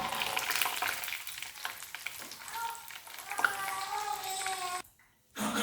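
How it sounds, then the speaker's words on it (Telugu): Peanuts fry in a pan, a moderate hiss with a few light stirring scrapes, briefly cut to silence near the end before the sizzle returns. "పల్లీలు కూడా ఫ్రై అయ్యాయి"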